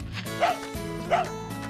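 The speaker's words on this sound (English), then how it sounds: "He's going to bark forever if we don't." A dog barks twice in The Dog Island video game, two clear yips roughly 0.8 seconds apart, heard over steady game background music.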